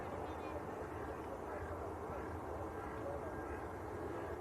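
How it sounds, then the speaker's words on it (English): An easyJet Airbus A320 from Copenhagen touching down at Manchester Airport: a distant, steady engine rumble with a low even roar, faint and continuous. "EasyJet just about to touch down."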